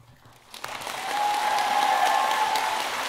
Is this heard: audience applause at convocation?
yes